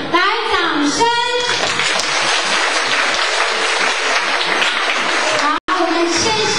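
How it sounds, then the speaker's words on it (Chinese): A crowd at a children's award ceremony applauds steadily for several seconds, a dense, loud wash of clapping with some voices heard at the start, ending in a sudden cut. "来为我们颁奖，来，掌声！"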